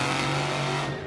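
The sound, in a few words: Black Pearl monster truck engine revving at Monster Jam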